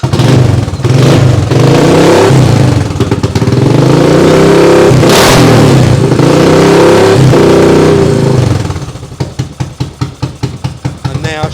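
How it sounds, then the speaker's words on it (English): A non-running motorbike fires up and revs hard under the throttle, a loud close engine roar rising and falling for about eight seconds before it settles into a rapid, rhythmic idle putter. "I'll give it a little bit of throttle."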